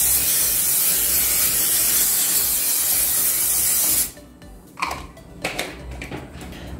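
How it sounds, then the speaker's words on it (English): Non-stick cooking spray hisses steadily into a casserole dish for about four seconds, loud and close, then cuts off, leaving a few light clicks and clatters in a quiet kitchen. "I'm going to use a non-stick spray just to make sure my patties don't get stuck"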